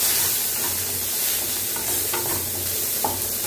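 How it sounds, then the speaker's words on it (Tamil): Onions and chillies sauté in a pan for a quick kuzhambu, giving a loud, continuous close-up sizzle with faint scraping and small crackles mixed in. "வெங்காயம் எல்லாம் நல்லா வதங்கட்டும்"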